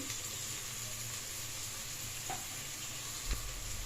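Turmeric and chili powder frying with spices in a pan for a vegetable rice bath, a steady close sizzle with occasional soft stirring knocks and no talking.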